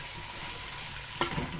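Sliced onions frying in hot oil for Delhi-style aloo gosht, a brief steady sizzling hiss with one short scrape of a utensil near the end.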